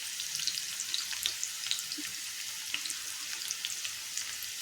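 Finely chopped garlic frying with onion that has turned reddish in a pan, a continuous close sizzle with scattered sharp crackles and pops, heard alone without speech.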